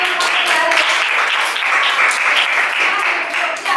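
A classroom full of students applauds together, dense steady clapping that stays loud and close throughout, with no speech over it.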